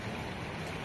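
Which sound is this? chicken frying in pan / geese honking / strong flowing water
strong flowing water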